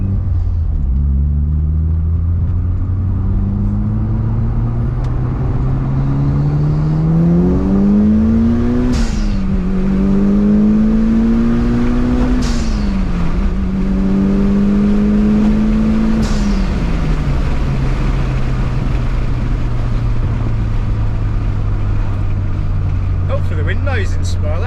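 A Mitsubishi Evo 9 fitted with a GFB blow-off valve: a loud, close engine idling with a deep drone, then revved in several rising blasts, each release ending in a short sharp hiss.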